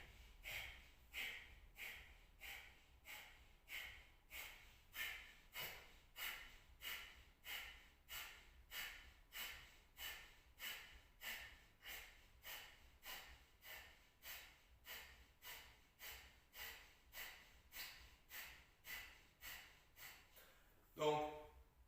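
Kapalabhati breath of fire: a long run of forceful, rhythmic nasal exhalations, about two per second, steady and close, ending with a sharper breath.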